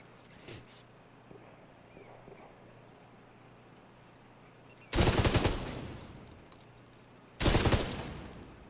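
Pistol gunfire in a fight between two grenadiers in The Division 2, heard as two separate loud bursts of rapid shots a couple of seconds apart, with a quiet game background between them.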